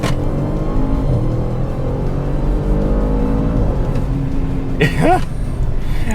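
Loud engine noise from inside a 2021 Audi RS7 Sportback as it accelerates hard, the revs climbing steadily, with a brief rising whine near the end.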